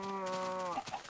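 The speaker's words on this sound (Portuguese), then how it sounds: "Aquelas galinhas lá, elas vêm se elas quiser." A short tonal Minecraft cow moo rings out first, followed by soft chicken clucks and light game sounds in the background.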